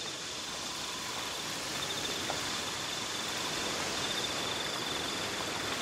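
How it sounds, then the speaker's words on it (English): Crickets chirp steadily outdoors in a continuous high, thin trill over a broad hiss of ambient noise, with no talking. "Who do them crickets love? The little fuckers never stop."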